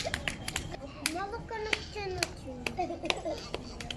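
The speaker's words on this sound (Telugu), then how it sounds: "Give good clap to Abhay" A group of small children in a preschool class claps for a classmate, giving scattered, uneven claps with sharp individual slaps, mixed with children's voices chattering close by.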